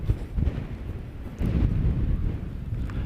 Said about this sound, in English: There's a big gust of wind kicking up now